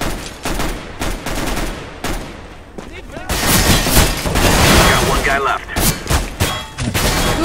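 Rapid bursts of heavy gunfire from a big gun in the video game CS:GO, loud and dense with repeated volleys, mixed with other in-game shots and explosions while a player talks over it.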